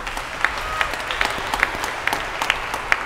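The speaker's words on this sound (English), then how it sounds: "Let us give these seminarians a round of applause." A church congregation at a morning Holy Mass applauds the seminarians, with sparse, scattered claps and a few sharper individual hand strikes popping out over a soft, continuous patter.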